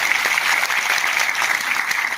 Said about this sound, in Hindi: मैं एक बार डिंगरा सर के लिए भी जबरदस्त तालियां चाहूंगा